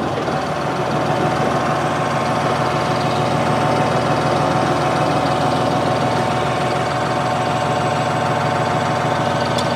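A New Holland 5620 CRDI 65 hp tractor engine idles steadily, a loud continuous diesel rumble with a low knocking chug, no voices.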